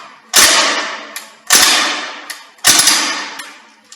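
Three sharp, loud gas-powered shots ring out about a second apart from a Northeast Airsoft Sten MK2 Long Branch Chinese variant airsoft submachine gun, each with a crisp crack and a short fading tail.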